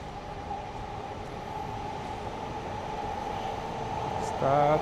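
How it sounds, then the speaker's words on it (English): A steady rumbling roar of a passing Sobu line commuter train in Tokyo fills the clip, with a droning tone throughout, growing slightly louder and more tonal near the end. "No, that's not a Chuo line train, that's a Sobe line train."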